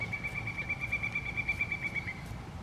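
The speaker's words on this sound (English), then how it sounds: "I don't know what that bird's angry about." A bird near an onion garden gives a sustained, steady shrill whistling call for about two seconds, moderately loud over outdoor background noise.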